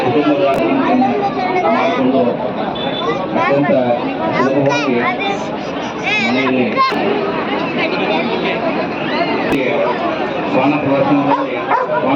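Several dogs bark and yip in overlapping bursts amid a noisy crowd at a dog show at a horticulture fair, loud and close, with people chattering throughout.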